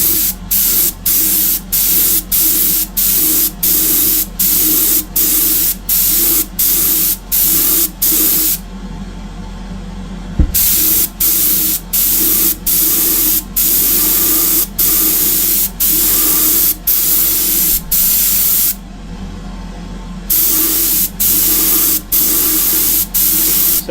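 An airbrush sprays a primer coat onto Greek-style vases: a loud, continuous hiss broken by rapid regular pulses, with an extraction fan running underneath and two brief pauses.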